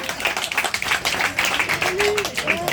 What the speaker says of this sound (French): Un petit applaudissement, s'il vous plaît, ça vous dérange pas?